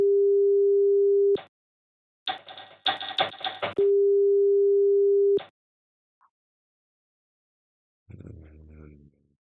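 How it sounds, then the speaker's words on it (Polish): Steady continuous dial tone from a simulated Pentaconta telephone exchange, loud and alone, broken by a burst of clicking relay-like noise, then returning, followed by a brief later sound. "Sygnał zgłoszenia centrali."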